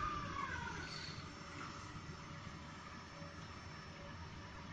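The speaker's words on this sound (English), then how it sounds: "another train there arriving outbound" A SkyTrain arriving outbound at Moody Centre Station on the Evergreen Line, a steady mid-level rumble with a faint high whine easing off, no voices.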